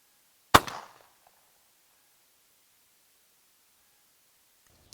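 A single close, loud shotgun blast fired with an improved cylinder choke at a 20-yard target, a sharp crack with a short decaying tail, followed by silence.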